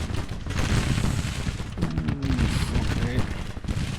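Musket volleys in Grand Tactician: The Civil War, a dense continuous crackle of rolling massed fire, with a voice speaking under the din.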